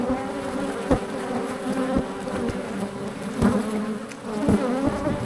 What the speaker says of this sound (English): Boxes have definitely got the bees in them.